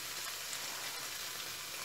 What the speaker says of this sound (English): Let garlic slightly fry, don't burn it, and then add the shrimps.